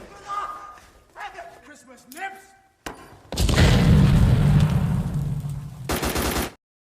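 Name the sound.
grenade explosions bombing a cave in a war film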